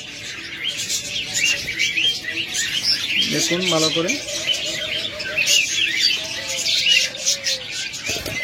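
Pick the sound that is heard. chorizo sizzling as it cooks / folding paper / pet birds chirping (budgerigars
pet birds chirping (budgerigars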